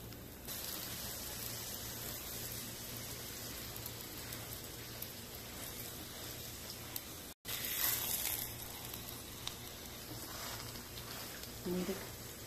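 Radish paratha frying in ghee on a pan, a steady hissing sizzle throughout with a brief break partway, close and continuous.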